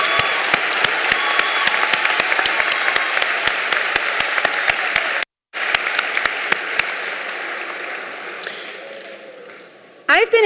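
Sustained applause from a graduation audience honouring the Washburn High School Class of 2021, steady clapping filling the hall for about five seconds, a brief gap, then more clapping that fades before a final short burst.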